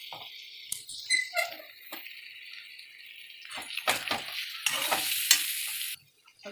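Close scraping and stirring of coconut milk chicken in a pan, with irregular spoon scratches against the metal base and a faint simmering sizzle underneath, no speech.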